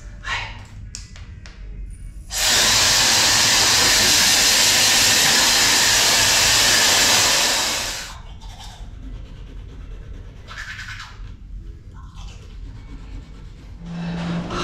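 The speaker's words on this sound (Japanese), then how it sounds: "こちらの付属のね、あのドライヤーを使って髪をね、乾かしてから" Hand-held hair dryer running loud and steady for about five seconds before switching off, used to dry hair after a shower at an airport lounge; quieter handling noise before and after, no talk.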